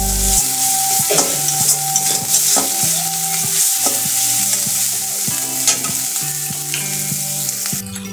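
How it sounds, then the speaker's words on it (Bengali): Spice masala frying in a pan for a kochur loti (taro stolon) dish, a loud continuous sizzle broken by repeated scraping strokes of the stirring spoon, no talk. "সব কিছু আমি ভালোভাবে একসাথে নাড়াচাড়া করে মিশিয়ে নেব আর এই মশলা কিছুটা সময় কষিয়ে নেব"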